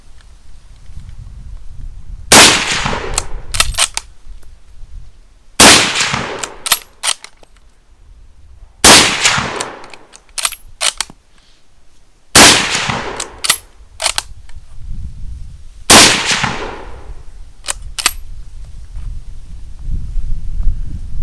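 A Lee Enfield No 4 rifle firing PPU 174 grain full metal jacket rounds: five loud, sharp shots spaced about three seconds apart, each followed by brief mechanical clatter of the bolt being worked, outdoors.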